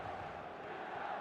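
A stadium crowd at the San Siro in an eFootball video game match makes a continuous, faint buzzing roar of cheering, steady and distant.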